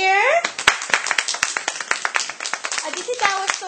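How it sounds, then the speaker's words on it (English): A group of children claps in quick, uneven bursts after a nursery rhyme about a ladybug, with brief cheering voices mixed in and a child singing just before the sharp, close hand claps take over. "Aditi, can everyone give Aditi a big cheer?"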